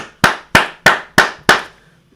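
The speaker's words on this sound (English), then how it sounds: "I got a clap for you" Five sharp, evenly spaced hand claps ring out close and loud, each crisp strike fading quickly before the next, with no talking.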